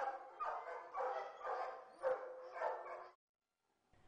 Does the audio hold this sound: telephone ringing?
no